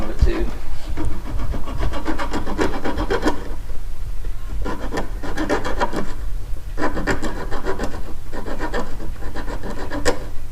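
A metal nub on a grease zerk fitting for a Kubota tractor front wheel is filed down, making loud rasping strokes in repeated bursts close up, with a continuous low hum underneath.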